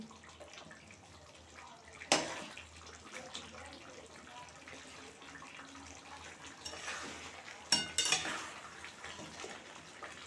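Chicken roast with whole onions being stirred in a pot: quiet scraping and clinks of a utensil against metal, with two sharper knocks standing out over a low background.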